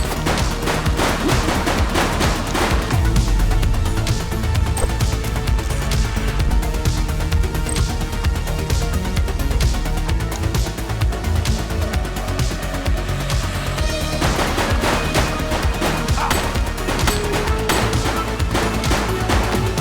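Rapid gunfire bursts in the top-down crime game GTA 2, loud and continuous, with dense overlapping shots and a busy game soundtrack underneath throughout.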